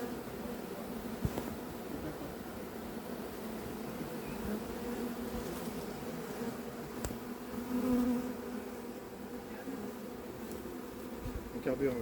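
A honeybee swarm from Thiais buzzes while being hived at Bussy-Saint-Georges, a dense, steady drone of many wings that stays close and continuous for the whole stretch, with no voices over it.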